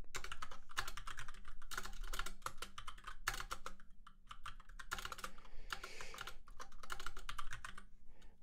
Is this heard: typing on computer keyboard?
yes